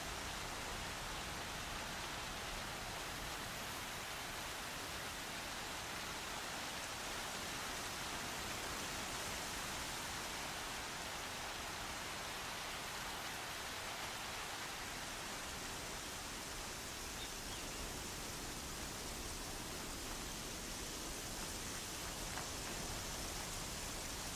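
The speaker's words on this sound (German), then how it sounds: "Es regnet, als wolle jemand alles Übel wegspülen." Steady rain falls in the video game Horizon Zero Dawn, an even, continuous hiss that holds at a constant level for the whole stretch with no talking.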